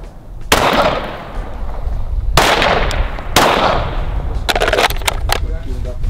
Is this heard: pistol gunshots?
yes